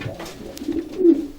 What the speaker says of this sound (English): This pigeon here, as I said, is a big pigeon